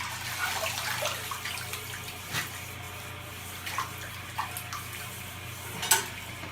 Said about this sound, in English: Now flush again. Wait for it to fill